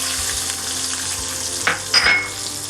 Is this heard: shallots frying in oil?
yes